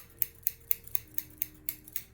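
Scissors snip crisply about nine times in a steady, even rhythm, close up against a quiet background.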